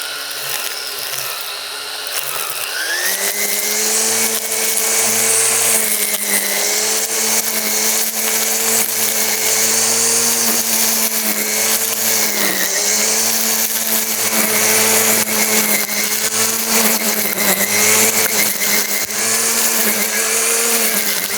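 A 1200 W electric string trimmer running off a Finch Energy portable power station, a loud, steady motor whine after spin-up, with slight dips in pitch as it cuts.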